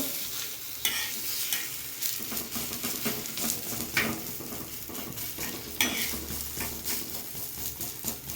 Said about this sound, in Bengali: এইভাবে সব কটা অমলেট আমি ভেজে নেব।